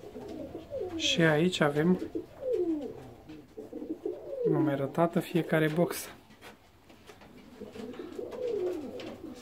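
Fancy ornamental pigeons cooing in their loft, with repeated close throaty coos in rhythmic bursts while someone talks over them.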